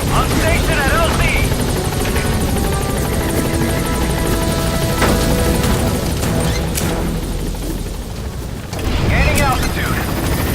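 Helicopter from the game Metal Gear Solid V: The Phantom Pain, a loud, continuous rotor roar and engine whine lasting throughout, with voices talking over it.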